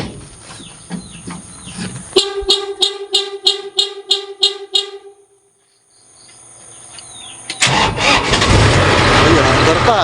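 A Kubota DC70 combine harvester engine with a freshly overhauled transmission cranks in a rapid rhythmic burst of starter pulses, stalls into near silence, then catches and settles into a loud, steady running roar, with people talking early on.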